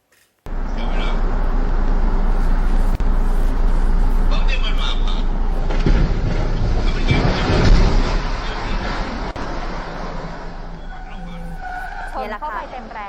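Dashcam recording across the road as a bus smashes into an overpass pillar in Saraburi, Thailand: loud road roar, a heavy impact burst midway, then other cars braking sharply with screeching tires.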